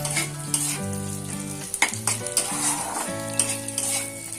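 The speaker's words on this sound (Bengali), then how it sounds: "এবার আমি এগুলো হালকা সসে করে ভেজে নেব" Paneer cubes fry in a light sauce for homemade chilli paneer: a loud, close sizzle with scraping stirs and utensil clatters against the pan, while a melodic tune plays in the background.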